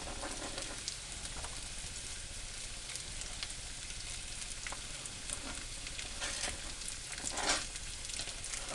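Onion frying in a pan gives a steady, dense sizzle and crackle that runs the whole time, close and fairly loud, with a few brief stirring scrapes and one small flare-up near the end.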